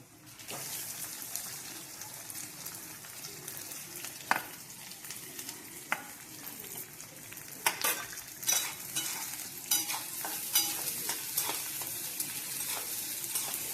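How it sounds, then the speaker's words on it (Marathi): Onion and whole spices fry in hot oil in a pan for a dry prawn curry, giving a steady sizzle with scattered stirring scrapes and clicks that grow busier toward the end. "आता कांदा आपण तळून घेऊ तेलामध्ये"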